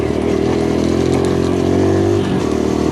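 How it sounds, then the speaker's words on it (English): A 2023 Kawasaki KLX140RF dirt bike engine drones steadily and loudly while riding on trails, holding a close, even hum for the whole stretch with no break. "Very comfortable riding this bike."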